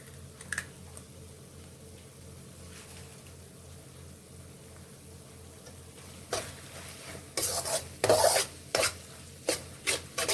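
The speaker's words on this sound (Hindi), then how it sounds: "मिक्स कर लेंगे इसे और अच्छी तरह पकाएंगे" Egg being stirred into Maggi noodles in a pan gives soft scraping and rubbing strokes, quiet at first, then louder bursts of scraping and clatter in the last few seconds, with no speech.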